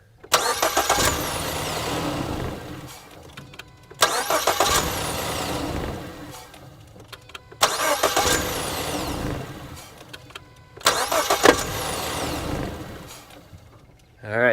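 A 2013-2016 Ford Escape engine cranking and starting four times in a row, each start a loud burst of cranking that catches into a short rev, followed by quieter gaps of idle or silence, recorded close up.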